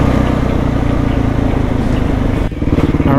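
A Husqvarna 450 dual sport motorcycle on supermoto wheels rides along a twisty paved road near San Diego, its single-cylinder engine droning loud and close with a steady throbbing pulse and a brief dip in revs near the end.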